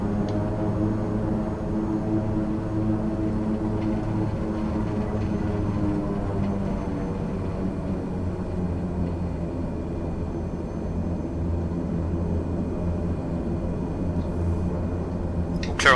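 Twin turboprop engines of a King Air in Microsoft Flight Simulator spool up to get the aircraft taxiing, a steady loud droning rumble with layered tonal harmonics holding throughout.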